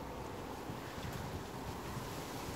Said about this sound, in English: Wind's really picking up now.